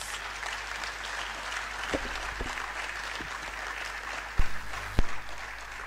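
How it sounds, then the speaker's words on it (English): A convocation audience applauds a guest lecturer in a steady, sustained wash of clapping, with a few louder isolated knocks near the end and faint voices underneath. "Please let's give him a better round of applause"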